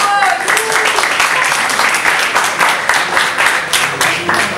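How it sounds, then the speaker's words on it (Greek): Audience applause and clapping fill a Greek gaming event crowd at a GameWorld Party Xbox One presentation, a steady dense patter of many hands held for several seconds with crowd noise mixed in. "Κάνε ένα χειροκρότημα"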